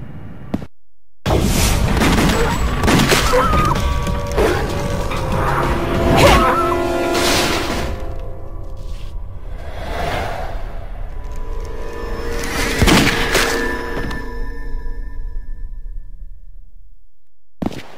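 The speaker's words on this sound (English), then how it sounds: "A gunshot!" Gunfire and loud blasts in the Wii game Resident Evil: The Darkside Chronicles, set in a ruined city: several heavy bursts and booms with ringing decays, loud and close, spread across the clip.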